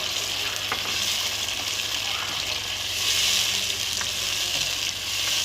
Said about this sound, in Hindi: अब मैं इसमें जो हमने टमाटर की प्यूरी बना के रखी थी वो डालूँगी।